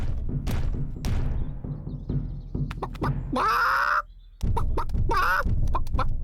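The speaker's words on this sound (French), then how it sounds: "Les poules." Cartoon hens cluck and squawk nearby in a couple of loud bursts, amid thumps and rustling background noise.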